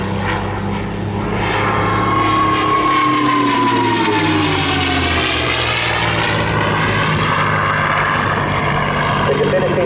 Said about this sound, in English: thanks to its 2-stage, 2-speed supercharger, giving it that unique whine and sing as it comes in.